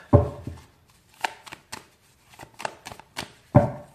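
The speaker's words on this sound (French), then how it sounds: "Je vais prendre juste quelques cartes. On va déjà faire une coupe." A deck of oracle cards being cut and handled, a series of soft slaps and riffles, close and quiet, irregularly spaced with brief pauses between.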